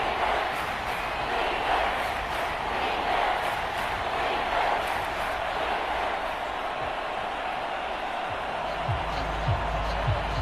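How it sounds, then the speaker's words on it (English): Crowd cheering in the Madden 25 football video game, a steady, loud stadium roar that holds without a break throughout. "This crowd doing all they can."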